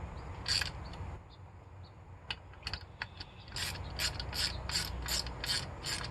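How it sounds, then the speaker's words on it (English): A ratchet turning a 4mm six-point socket bit on the distributor screws of an LT1 Optispark; brisk clicking pawl runs come in short bursts, then a steadier series of rapid ratcheting clicks near the end, close and moderately loud. "Technically you're supposed to have an E4 Torx bit for this, but I have a 4mm and it seems to work okay."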